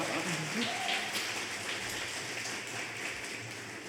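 A concert audience at a convention claps for a returning performer, a soft, even wash of applause from a small crowd heard at a distance, with a few murmured voices at the start.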